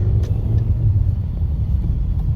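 A low, constant rumble of slow-moving traffic jammed on Santragachi Bridge close by, with engines droning and no one speaking.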